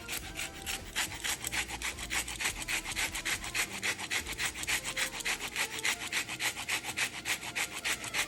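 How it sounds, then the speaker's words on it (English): A lemon is grated for zest in rapid, even rasping strokes, about four per second, close and fairly soft with no talking. "So this is some zest. Put a little zest. We want a little lemony."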